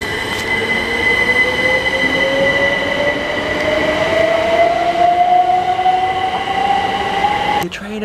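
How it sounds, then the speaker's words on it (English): Steady interior rumble of a moving passenger train heading toward Broxbourne, with a rising wheel or motor whine gliding upward over several seconds; loud and continuous, ending in a brief clunk. "So on the train home from Harlow on the way to Broxmoor, which is going to change over."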